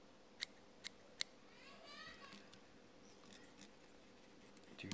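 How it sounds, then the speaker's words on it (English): Scissors snip calf tail hair while tying a bead head nymph fly, three sharp close cuts in quick succession followed by a quieter stretch of faint handling and a soft voice in the background. "Just pinch a little piece down and cut it."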